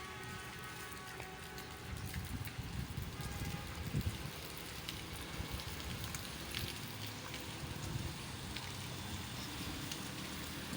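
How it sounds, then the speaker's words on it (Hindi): Heavy morning rain falls on a road, giving a steady, dense hiss of drops with a low rumble of light traffic beneath it. The wash stays continuous and fairly loud throughout, with no break in the downpour. "बारिश लगी हुई है"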